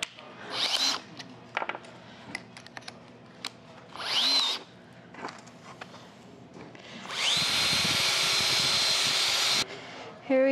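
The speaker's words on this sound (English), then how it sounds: "I just need to over drill the holes a little bit more." A power drill whirs in several short bursts, then runs in one longer, steady burst, close and loud, drilling holes to mount a Victron Energy display, with brief pauses and a few knocks between.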